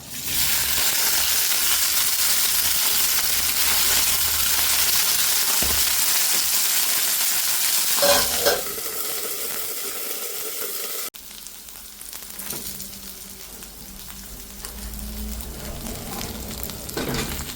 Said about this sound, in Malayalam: അപ്പോൾ അതിന് ഞാനിതൊന്ന് ചെറുതായിട്ട് എണ്ണയ്ക്കകത്തിട്ടൊന്ന് വഴുത്തിയിട്ട് ഇടാൻ ഓർത്തു.